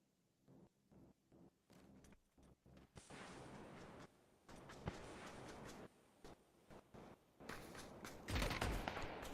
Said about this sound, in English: Farby Pranto goes for a clean shotgun shot on Mr. White.